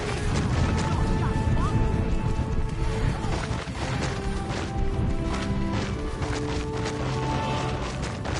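Incendio and Expulso spell blasts in the Hogwarts Legacy video game, dense crashing impacts and explosive bursts layered over continuous game music and rumble, loud and busy from start to finish.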